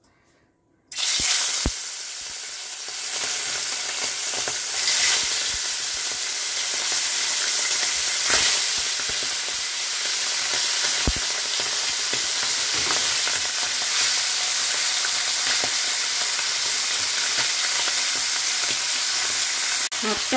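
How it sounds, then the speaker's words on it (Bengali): Pomfret fish hits hot mustard oil in a frying pan with a sudden loud sizzle, then fries in a steady close crackling hiss for about twenty seconds with a few sharp pops and no talk. "তেলটা গরম হলে তারপর মাছটা ছেড়ে দেবো"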